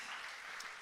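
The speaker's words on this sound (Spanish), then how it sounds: "Le damos un aplauso a mi hermana Araceli." Brief applause from a church congregation at the close of an evening service, a steady wash of clapping heard alone for under a second.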